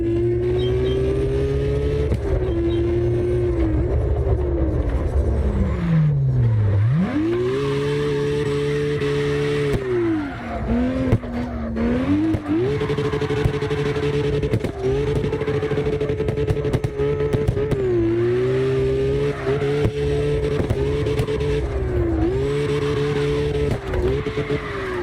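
Several drifting cars in CarX Drift Racing Online circle a street block, their engines revving loudly and continuously, pitch swooping up and down through gear shifts and slides, with tire squeal mixed in and no talk.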